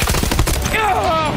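In the Battlefield 2042 video game, a heavy machine gun fires a rapid, loud burst of close shots, with a voice speaking briefly over the gunfire.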